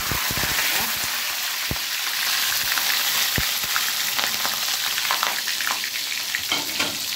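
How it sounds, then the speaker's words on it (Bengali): Whole cumin, onion and garlic frying in hot oil: a steady, close crackling sizzle with sharp pops and spatters throughout, with no speech over it. "তেল দিয়েছি, দিলাম আস্ত জিরা, আর দিয়ে দিচ্ছি এখানে একটা পেঁয়াজ আর একটা রসুন"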